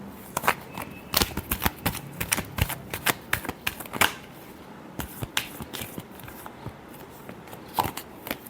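Tarot cards are shuffled by hand at close range, giving a series of sharp, uneven riffling snaps and flicks with no talking.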